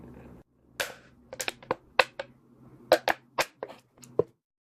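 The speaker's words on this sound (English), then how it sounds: "I think I'm just denting this bottle and not actually cutting it." Sharp plastic crunches and cracks from a blade pressed against a plastic bottle still holding some water, a dozen or so irregular close snaps over a faint low hum, no voices.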